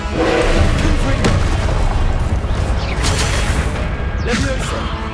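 Confringo explosive spell cast in Hogwarts Legacy on PS5, a dense, loud game soundscape of booming blasts and whooshing bursts, several impacts rolling together over a few seconds with no talk.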